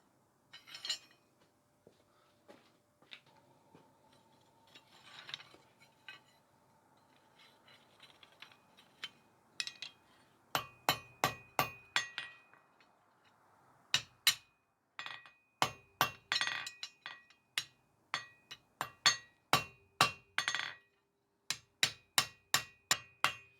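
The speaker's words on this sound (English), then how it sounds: "So we can make a nice round rivet head with the ball peen, going in circular motions around the head." Ball peen hammer strikes peen rivet heads on blacksmith box jaw tongs, starting with soft scattered taps, then sharp ringing metallic blows in quick rhythmic runs, close and clear.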